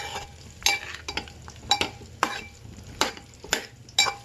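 A spoon stirs coriander chutney mixture with turmeric in a pan, scraping in regular strokes about every half second over a quiet background.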